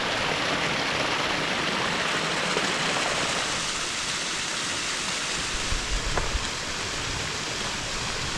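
Fresh water rushes in a mountain stream in the Yosemite backcountry, a dense, steady hiss of flow filling the whole stretch, close and loud, with no voices over it.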